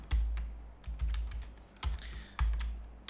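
Keys clack on a computer keyboard as a username is typed in, a few quiet bursts of taps separated by short pauses, close and alone.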